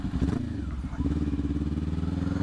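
A 2023 Kawasaki Ninja 400 engine revs up and down through its range, a steady close motorcycle drone with rhythmic pulsing, some clatter and a faint voice underneath.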